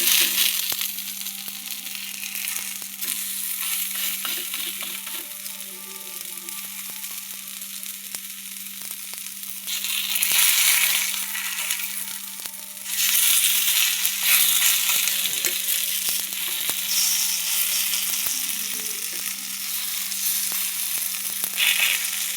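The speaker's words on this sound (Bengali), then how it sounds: "গ্যাসের ফ্লেম লোতে রেখে ভাজতে হবে।" Food fries in oil on a gas stove over a low flame, a continuous close sizzle with scattered crackles and louder bursts over a faint steady hum.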